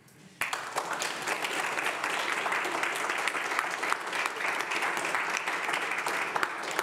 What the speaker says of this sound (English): So applause to Richard for summarising 220 pages